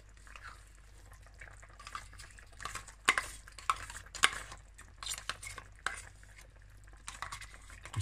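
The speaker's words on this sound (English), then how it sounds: "Let's stir this up." Beef stroganoff with crème fraîche simmers in a pan while a spoon stirs it, soft bubbling with irregular close scrapes and clinks against the pan, no speech.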